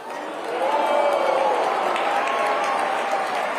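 A large crowd cheers and applauds at America Fest, a steady wash of clapping and voices that swells after the first moment and holds at moderate loudness.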